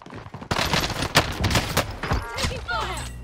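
Rapid bursts of gunfire ring out in the battle royale shooter Warzone on Rebirth Island. Sharp, loud cracks crowd close together throughout, with a player's voice talking over them.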